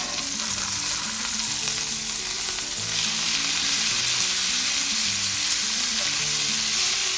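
Ribeye steaks sear in a hot pan, giving a steady, loud, close frying sizzle with crackle throughout, and some low kitchen noise underneath.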